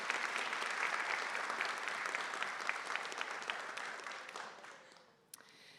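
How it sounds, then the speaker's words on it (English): Audience applause rings out at a high school Seal of Biliteracy award ceremony. The clapping is full and steady, then thins and fades to a few last claps. "A round of applause for our French and Haitian Creole students"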